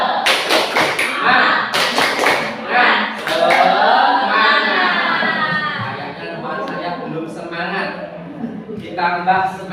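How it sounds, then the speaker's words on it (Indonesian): Students in a ninth-grade Islamic studies class clap a quick rhythmic spirit pattern in short, sharp bursts, mixed with group voices and chanting that carry on through the clip. "Sebelumnya tepuk semangat."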